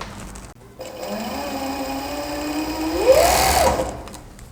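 An overlock sewing machine runs at speed stitching trouser fabric, a close whirring buzz that builds and then stops, with no talk.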